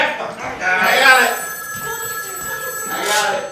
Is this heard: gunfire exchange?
no